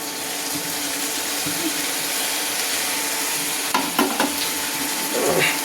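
Potato, pumpkin and jackfruit fry together in a pan for a mixed vegetable dish, giving a steady broad sizzle with a few scraping stirs and clatters near the end.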